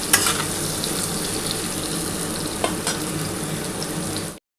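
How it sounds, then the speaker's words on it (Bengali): Potato and papaya pieces fry lightly in a pan for a fish curry with summer vegetables, giving a steady close sizzle with faint stirring scrapes and no talking. "তার জন্য আগে প্রথমে আলু আর পেঁপেটা একটু হালকা করে ভেজে নিচ্ছি।"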